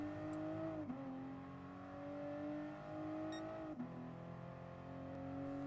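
Toyota GR Supra race car engine at full throttle in Gran Turismo Sport on the Nürburgring 24h circuit, a steady high-pitched drone with two brief dips in pitch at gear shifts, loud and continuous with no talk.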